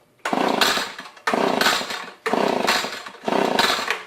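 An Echo PB2520 gas leaf blower engine being pull-started, four loud rasping bursts of about a second each, the two-stroke motor sputtering briefly with each pull at close range.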